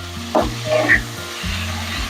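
Cauliflower florets sprinkled with salt fry in oil over medium heat, a close sizzle under a low steady hum, with a couple of brief clinks of a spoon against the pan.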